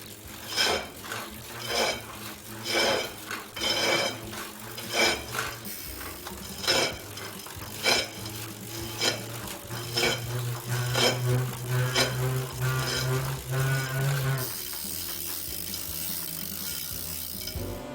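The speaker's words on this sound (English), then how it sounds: "If you hear a metal noise from the motor brake when you pedal." Metallic clicking and grinding from the motor brake of a Tacx bike trainer during pedaling, likely tied to a hub axle problem, repeats in a steady rhythmic pulse, loud and close, then shifts to a continuous whir near the end.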